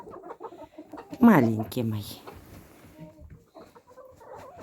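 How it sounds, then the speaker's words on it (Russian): Hens cluck and a rooster calls in a snowbound henhouse during a winter blizzard, a loud burst of fowl calls rising above soft nearby talk. "а там десь півник пристає до курочки"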